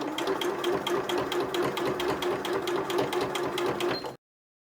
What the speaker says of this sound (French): c'est quand même relativement facile de coudre simplement sur la ligne